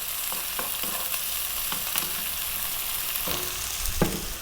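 Garlic and ginger fry hard over maximum heat for vegetable fried rice, giving a loud, dense, constant sizzle with a few sharp stirring clinks near the end and no voices.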